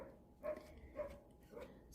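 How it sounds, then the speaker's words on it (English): Dogs barking somewhere off in the neighborhood during an indoor fabric-art session: three faint, evenly spaced barks, each about half a second apart, heard from a distance. "those are not my dogs barking"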